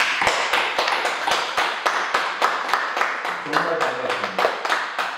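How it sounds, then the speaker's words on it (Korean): A church congregation at a Sunday service claps a welcome in sharp, evenly spaced beats, and a voice begins talking over the last couple of seconds. "우리 먼저 환영의 박수 한번 드리겠습니다."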